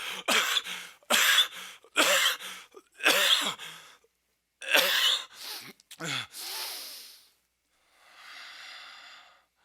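A long fit of harsh, repeated coughing, loud and close, rising in clustered bursts before fading into heavy breathing and a quieter exhale.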